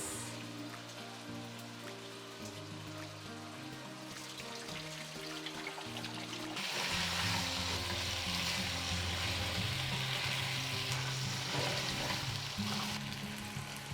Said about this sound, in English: First we will fry the potato in oil.